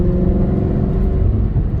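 Loud, steady engine drone of a 2013 Maserati GranTurismo Sport driven in sport mode, heard from close up as a continuous rumbling growl with no speech.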